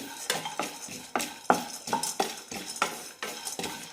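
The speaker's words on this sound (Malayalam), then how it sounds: "നിലക്കടല കൂടി ഇടാം ഇതും കാൽക്കപ്പ് തന്നെയാണ് എടുത്തിരിക്കുന്നത് നന്നായി റോസ്റ്റ് ചെയ്യാം" Peanuts roast in a pan, and a spoon scrapes and stirs them in quick, regular strokes, each one a close rattling scrape with no talk.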